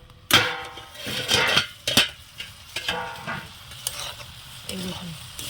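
Ash gourd being cooked down in a pan, with bursts of sizzling and loud metallic scrapes and knocks of a spoon stirring against the pan, close and uneven.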